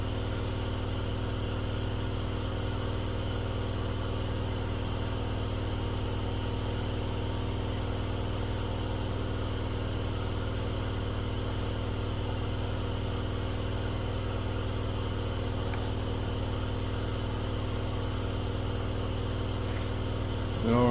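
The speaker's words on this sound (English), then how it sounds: "I'll go shut off the air compressor" An air compressor runs with a constant, steady mechanical hum, unchanged throughout, droning nearby at moderate level.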